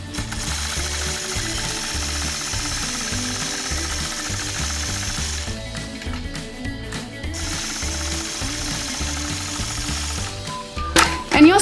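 A sewing machine stitches a ruler-guided circle on a quilt, its needle drive chugging in a steady rapid rhythm, pausing briefly midway before resuming, with a louder clatter near the end.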